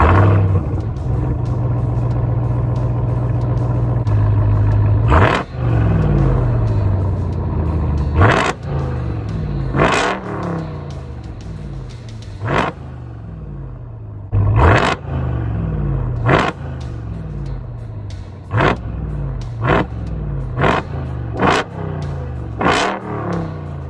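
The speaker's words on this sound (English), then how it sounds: "Just listening to the exhaust one more time." A straight-piped exhaust on a Ram TRX pickup rumbles at idle, then gets hit with a series of sharp, loud revs in quick succession, each one flaring and dropping back, close and unaccompanied by talk.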